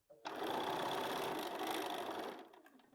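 A sewing machine stitches a fabric piece in one steady burst, a fast, even mechanical whir that starts suddenly, runs for about two seconds close and clear, then winds down and stops.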